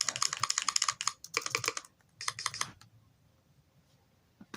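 Custom keyboard typing sounds on a school computer come as rapid bursts of crisp clicks in three quick runs, then fall silent.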